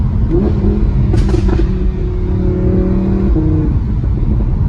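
Audi R8 with a V10 engine and S-tronic dual-clutch gearbox accelerating, a loud, steady mid-pitched engine drone with a brief rising surge near the start, heard close from inside the car with no talking.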